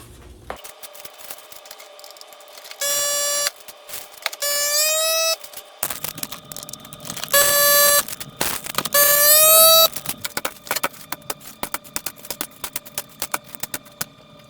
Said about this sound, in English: we'll throw in the vacuum sealer, vacuum seal it up